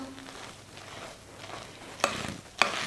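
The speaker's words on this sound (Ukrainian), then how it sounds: "Додаємо сюди дрібку солі, цукор, який залишився. Все гарненько розмішуємо" A spoon stirs yeast dough for steamed cherry varenyky in a bowl after salt and sugar are added, giving soft, continuous scraping and swishing with two sharper clinks near the end, no voices.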